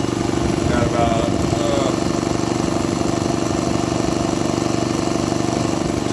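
A rebuilt Quincy 210 air compressor runs steadily as it pumps up air, a continuous loud mechanical drone with a regular pulsing beat throughout.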